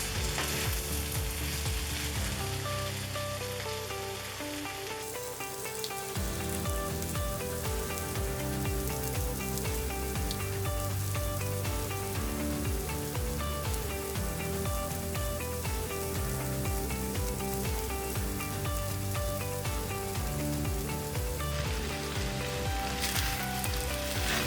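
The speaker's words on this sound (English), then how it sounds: "Stir it occasionally to make sure the peppers and onions are cooking through." Peppers and onions stir-fry in a cast iron skillet with a loud, steady sizzle that carries on without a break, layered over a dense backdrop of other sound.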